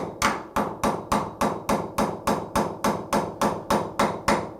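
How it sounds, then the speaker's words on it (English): A hammer pounds a number 4 extractor into a stuck brake bleeder bolt with about thirteen evenly spaced, sharp metallic strikes, close and loud, with no talking. "So let's go ahead and pound in our number 4."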